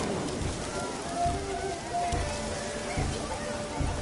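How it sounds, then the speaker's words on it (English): Rain falls in The Witcher 3, a steady wash of hiss and soft patter that fills the whole stretch at moderate loudness, with faint game ambience beneath and no clear speech. "Looked like it would rain, and here it is."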